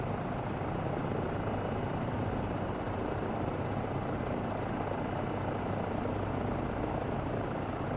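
A Eurocopter EC135 helicopter in Microsoft Flight Simulator 2024 hovers with a steady, dense rotor and turbine drone, constant and unbroken, with no talk over it.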